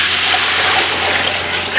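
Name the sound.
water poured into pot of fried rice for fish biryani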